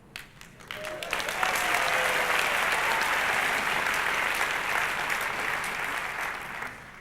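A large audience breaks into applause that swells within a second into a dense, sustained roar of clapping, holds steady, then fades near the end.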